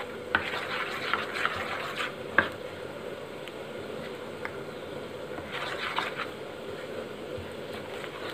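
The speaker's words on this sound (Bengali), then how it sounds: "এখন এর মধ্যে অল্প পরিমাণে বেকিং সোডা দিয়ে একটু গুলিয়ে নিব" Gram flour batter with salt, baking soda and spices is mixed in a bowl, giving soft scraping strokes and a few light clicks in two brief bursts, quiet and close, with no voices.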